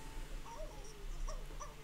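A pet dog in The Sims life-simulation game gives a few soft, high whimpers and yips, faint and spaced out over a low steady background hum.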